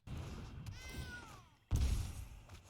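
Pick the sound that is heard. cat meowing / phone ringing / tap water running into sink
cat meowing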